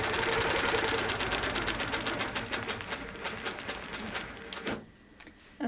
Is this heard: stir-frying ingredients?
no